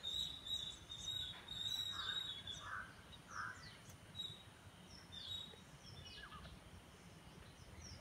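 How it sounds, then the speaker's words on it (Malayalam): Birds call among garden plants and mango trees beside a backwater, with a few harsh caws and thin chirps coming from some distance over a quiet outdoor background. "നിറച്ച് കിളികളുണ്ട് പക്ഷെ."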